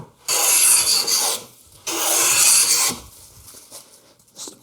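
A hand tool rasps across a rough spot on a wooden wine caddy part in two long, steady strokes, close and fairly loud, with quieter scraping afterward.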